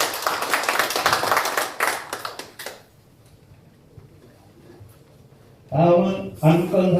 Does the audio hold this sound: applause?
yes